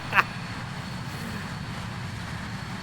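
Engines of a BAe 146 airliner in the Microsoft Flight Simulator game give a steady, moderate jet rumble and hiss, with a brief click near the start.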